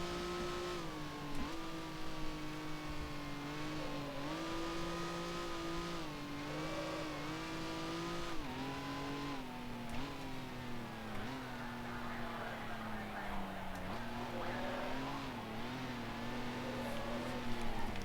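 1955 Formula One race car engines, including Mercedes and Ferrari, in the Grand Prix Legends game at the Argentine Grand Prix in Buenos Aires: a loud droning engine that rises and drops through repeated gear changes, steady throughout, with no speech.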